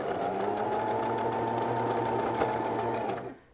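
A sewing machine runs a first line of stitching along a garment seam about 1 cm from the edge, giving a steady close whirring hum that holds evenly and then winds down at the very end.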